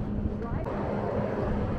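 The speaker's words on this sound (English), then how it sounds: "Get over here out of the wind." Steady wind buffets an outdoor microphone at the Wisconsin State Capitol beside flagpoles, a constant loud broadband rumble and roar with no breaks.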